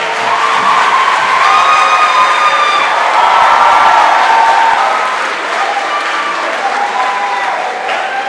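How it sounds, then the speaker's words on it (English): A large graduation ceremony audience claps steadily with cheers and scattered whoops rising above the applause, loud and sustained throughout. "Now, class of 2014, let's get a round of applause."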